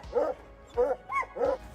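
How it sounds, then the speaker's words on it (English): A dog barks in three short, yappy bursts spaced evenly apart, fairly close and moderately loud, with quiet gaps between them. "That's a dog."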